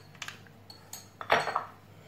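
A metal spoon clinks against a container while scooping powdered milk, a few light taps followed by a louder cluster of scraping clinks, close and alone with no voices.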